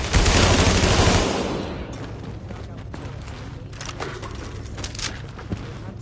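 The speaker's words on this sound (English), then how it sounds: "Reporting gunfire in the station above us." A loud burst of rapid video game gunfire at the start fades into scattered shots and mechanical clatter over a rumbling background.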